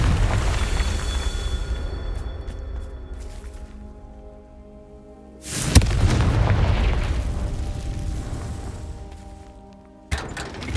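A Confringo spell blasts in Hogwarts Legacy: two loud, booming explosions a few seconds apart, each with a sharp crack and a long rumbling tail, followed by a third abrupt burst at the end, with no talking.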